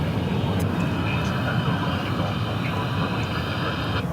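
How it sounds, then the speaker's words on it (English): An airliner rolls down the runway for takeoff at DFW Airport, giving off a loud, steady, broad engine roar that holds without a break for a few seconds. "There you see a bunch of planes lined up to take off."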